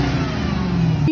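A Dodge Challenger or Charger engine revs hard and close for a brief burst, a loud steady roar that cuts off abruptly at the end.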